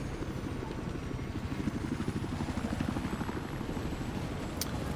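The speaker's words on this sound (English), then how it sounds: "I had to fly my helicopter." Battlefield 4 helicopter in flight, a steady rhythmic rotor chop thudding throughout at moderate loudness, with a brief spoken word over it.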